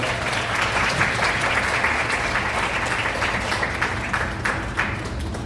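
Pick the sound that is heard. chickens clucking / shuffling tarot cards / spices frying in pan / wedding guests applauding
wedding guests applauding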